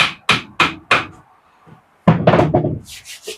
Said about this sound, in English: get our good old hammer and tap it over